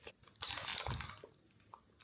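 Berry ropes candy is chewed close up, soft wet crunching and mouth sounds rising in a burst, then quieter smacks, faint and alone.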